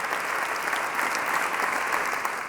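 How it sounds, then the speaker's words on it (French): Audience applause at a French media awards ceremony, a dense, even wash of many hands clapping throughout, steady and fairly loud with no voices rising above it. "Vous pouvez l'applaudir."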